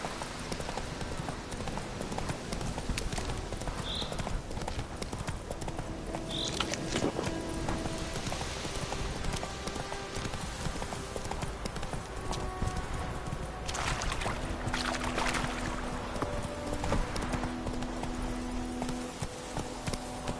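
A horse gallops in The Witcher 3 video game, with steady rhythmic clip-clop hoofbeats and faint creaking tack running throughout at a constant, close level.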